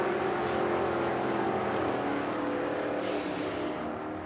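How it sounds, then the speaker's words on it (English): A 1933 Ford Coupe and a fastback Mustang drag racing, engines droning in a steady, loud, harmonic-rich roar that holds throughout, easing slightly near the end. "Very cool looking 33 Ford Coupe. And the fastback Mustang over there on the left."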